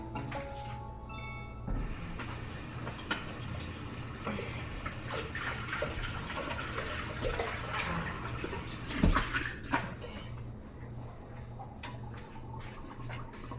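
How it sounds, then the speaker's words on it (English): Running tap water splashes steadily into a sink while something is rinsed under the stream, close and continuous with a few brief clunks and a louder splash partway through. "let me rinse this real quick."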